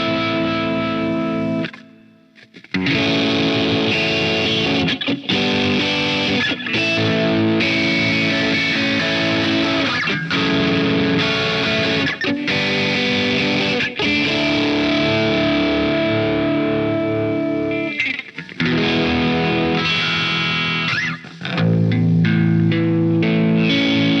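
Electric guitar played through the Bias FX 2 Phased Plexi preset, with gate, modulation, delay, boost, Plexi amp, Greenback speakers and reverb, giving a loud, continuous, heavily effected riff with brief pauses and no talk.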